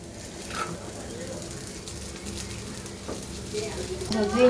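Masala dosa filling frying in a pan, a steady low sizzle with occasional stirring scrapes, heard close under people talking.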